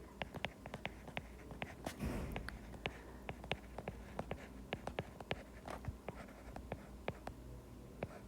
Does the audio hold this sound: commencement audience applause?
no